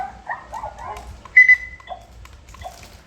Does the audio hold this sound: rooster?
no